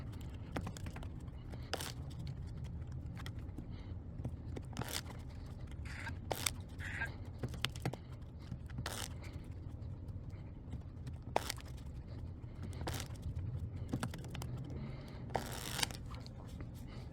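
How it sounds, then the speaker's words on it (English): Repeated sharp clicks and brief crackly flutters of casino playing cards being riffle shuffled and handled by a dealer, close up, at irregular intervals over a low background hum. "riffle, riffle, strip, riffle again. And we're just going to constantly just repeat this until everything's been shuffled"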